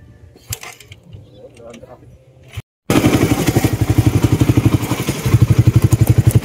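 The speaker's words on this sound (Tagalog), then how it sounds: "Oh, the starter motor." Suzuki Raider 150 motorcycle starter motor cranking repeatedly in a fast, loud, steady rhythmic churn after a quiet stretch of faint clatter and a brief silence.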